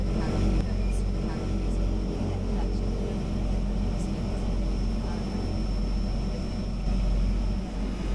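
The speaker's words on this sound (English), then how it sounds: "This Twin Otter is operated by the Salonian Airlines Skybus." Steady drone of a de Havilland Twin Otter propeller plane run by Skybus on the Isles of Scilly, a continuous loud engine and propeller roar that holds level throughout with faint voices underneath.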